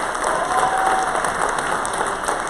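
A round of applause for the college Republicans at a state GOP annual meeting, a brief burst of crowd clapping that holds steady at moderate loudness, with faint cheering mixed in.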